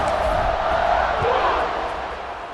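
A football stadium crowd before an Iowa kickoff, a broad sustained roar of cheering and shouting that swells and then gradually eases, with a commentator's voice over it.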